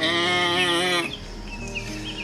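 A sheep bleats in a long, wavering call for about a second, followed by a quieter, rougher stretch of bleating and background noise, in the video game Isle of Ewe.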